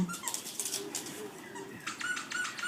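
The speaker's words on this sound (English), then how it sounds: "He's so funny with his little growl." A small Cavachon puppy gives soft, playful little growls and whimpery noises up close, brief and faint, with a squeaky toy-like chirp at the end.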